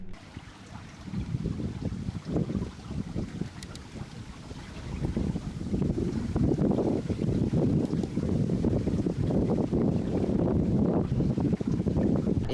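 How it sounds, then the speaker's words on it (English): Strong wind gusting over open water around a barge near an island, a steady low roaring rumble that swells louder midway and stays heavy, with buffeting on the microphone. "It is a bit windy out right now"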